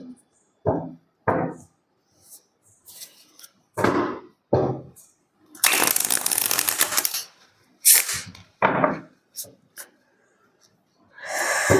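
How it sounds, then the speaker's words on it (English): Tarot cards shuffled in quick riffles, with bursts of card noise between spoken passages and a long shuffling run in the middle, close and fairly loud. "One last shuffle and then we will start pulling."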